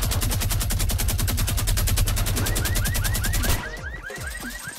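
Sustained automatic gunfire in Fortnite Battle Royale, a loud, evenly paced stream of rapid shots with repeating whooshing tones, cutting off abruptly near the end.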